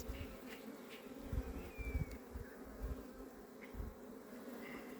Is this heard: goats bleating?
no